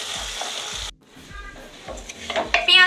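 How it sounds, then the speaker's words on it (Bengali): Onions fry for mutton curry and are stirred in the pan, giving a loud, close sizzle. The sizzle drops away briefly, then returns with spatula scrapes and clinks. "এইভাবে আরও একটু আমাদের পেঁয়াজটা নেড়ে নেড়ে সফট করে নিতে হবে"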